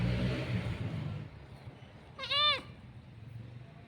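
A goat bleats once, a short wavering cry over the low murmur of a household as it is being fed.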